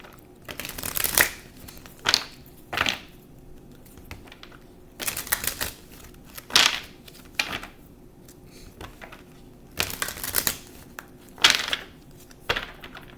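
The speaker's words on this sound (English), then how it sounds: "I'm going to shuffle." A deck of tarot or oracle cards being shuffled by hand, heard as repeated short riffling bursts in an uneven rhythm with quiet pauses between them, close and moderately loud, with no talking.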